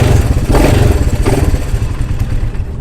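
A Honda CT200 Trail with an automatic clutch and its original engine runs close by with a steady, rough mid-pitched chug and light mechanical clatter throughout.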